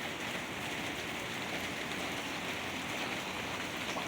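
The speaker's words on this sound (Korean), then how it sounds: "하늘아, 그 비 오는데 나가면 안 돼" Steady rain falls outdoors on a wooded hillside, a dense, even patter and wash that continues without pause, moderately faint with no voices.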